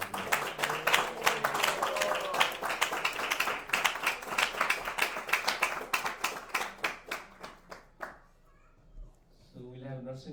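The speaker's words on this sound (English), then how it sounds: "Please give them a big round of applause." A devotional gathering's audience claps for the program hosts, dense rapid clapping for about eight seconds that then thins out and stops, followed by a short stretch of quiet and a voice speaking at the end.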